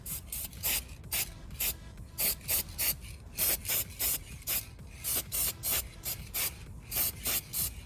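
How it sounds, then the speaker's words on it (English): Short bursts of an aerosol can spraying crack-test dye onto the skirts of 318 LA engine pistons, roughly two dozen hissing pulses in an uneven rhythm, close and fairly loud with brief gaps between them and no talking. "I'm just going to spray some dye onto the skirts"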